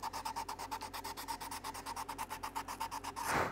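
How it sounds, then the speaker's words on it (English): Hand sanding on wood: quick, even back-and-forth rasping strokes, about a dozen and a half in a steady rhythm, close by, ending in a brief scrape. "While I'm sanding, I'm shaping"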